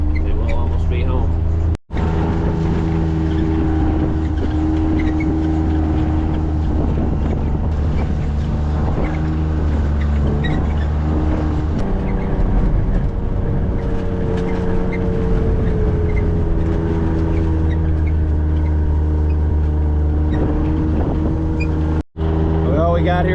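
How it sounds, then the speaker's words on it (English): Strong wind roars steadily in the open Nebraska Sandhills with a low engine hum underneath, a continuous loud rumble buffeting the microphone, with talking mixed in. "She is still windier than ever."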